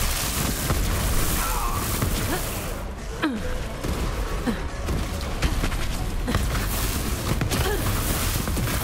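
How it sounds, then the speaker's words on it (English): Dense game-battle din from Borderlands 3, with repeated booms and blasts piling over one another in a steady, loud wash that never lets up. "With a sea of explosions"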